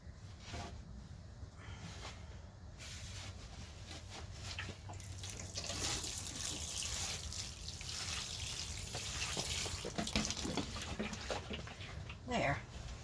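Water running from a tap in a steady close splashing stream, with faint handling noises and a speaking voice underneath.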